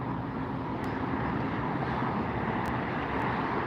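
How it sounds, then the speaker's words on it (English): Aeromexico Boeing 737-9 MAX, inbound from Mexico City, going around at LAX: a loud, steady, broadband jet roar that holds evenly throughout, with no voices. "I think that was the Aero Mexico going around."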